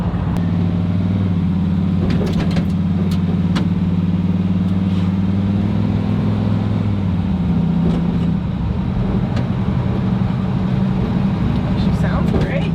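A truck engine idles with a steady low rumble, heard from inside the cab as people talk over it throughout.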